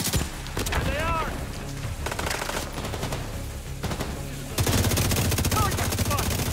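Sustained automatic gunfire from a cover position in The Division 2, rapid bursts rattling densely throughout and swelling louder in the final stretch, with brief voice fragments and game effects mixed underneath.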